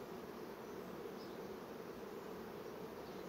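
Honeybees buzzing steadily at a hive, a dense continuous hum from many insects close by, with no voices.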